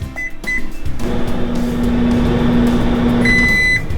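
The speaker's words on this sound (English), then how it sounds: "now we're gonna pop it in the microwave for 1 minute." A microwave oven heating popcorn hums steadily for a few seconds, with short electronic beeps before it starts and again as it finishes.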